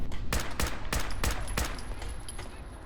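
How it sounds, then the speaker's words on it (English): Six or seven rapid gunshots from a Fallout 4 firearm ring out in quick, evenly spaced succession, loud and close, then trail off into a lingering echo. "you should pull it out and fire it rapid fire, and you'll see the difference"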